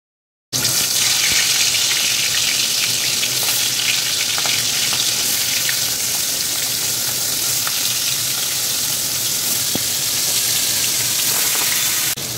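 Pieces of rohu fish, rubbed with salt and turmeric, fry in hot oil in a kadai with a loud, dense, continuous crackling sizzle and small pops. It starts abruptly and runs unbroken throughout, close by with no talk.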